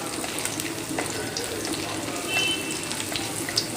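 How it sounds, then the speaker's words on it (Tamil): Steady sizzling and crackling of chilies frying in hot oil, continuous and close, with no talking. "மிளகாவும் நல்லா வதங்கணும்"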